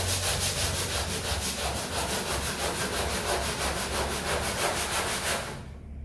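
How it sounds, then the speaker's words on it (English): A long sanding block loaded with 40 grit paper works back and forth over hardened filler in a gelcoat repair, a loud, close, rhythmic rasping scrape that goes on steadily and stops near the end, with no voices. "we use a bit of 40 grit just on the actual area itself"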